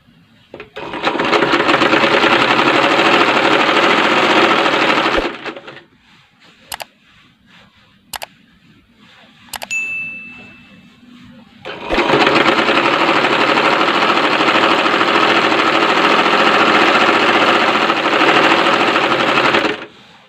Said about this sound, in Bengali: মোহরি, হাতার মোহরির সিট ভাঁজ দিয়ে সেলাই করি।